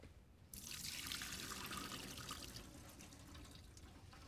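Boiled, fork-tender russet potatoes drained in a kitchen sink, water pouring loudly and steadily after a brief quiet start and continuing as a gushing splash throughout.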